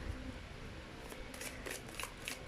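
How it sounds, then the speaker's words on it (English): Large oversized tarot cards being shuffled by hand, a steady papery riffling with several crisp flicking bursts near the close, fairly close and alone without talk. "I've been using really, really big cards, honestly. So they're quite, very hard to shuffle"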